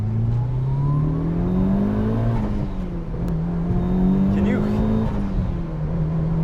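A stock Mitsubishi Lancer Evolution VIII MR engine hums steadily and rises and falls in pitch as it revs under load, loud and close throughout.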